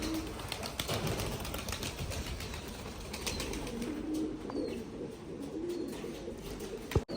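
Pigeons in a rooftop loft coo steadily at close range, with a brief burst of flapping wings near the end.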